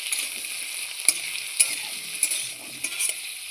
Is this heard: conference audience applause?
no